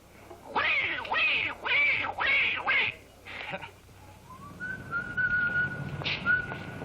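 A voice imitates a mother duck calling her ducklings, giving a run of about six loud, raspy quacking calls in steady rhythm, then breaking into a thin rising whistle that holds and wavers near the end.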